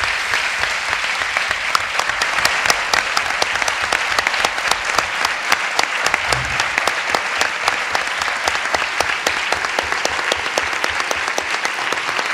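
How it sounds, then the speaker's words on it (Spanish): Sustained, loud applause from the audience at the closing of a Galician philosophy week, many hands clapping in a dense, even wash that holds steady for the whole stretch. "Aplausos."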